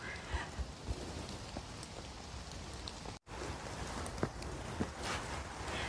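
Steady rain falling outdoors on a wet day of mushroom foraging, a continuous close patter with scattered heavier drops and a brief dropout midway.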